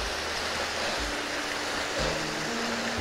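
Waterfall in a gorge in Northumberland, a steady broadband rush of falling water, close and continuous, with low rumbling thumps underneath and no voices.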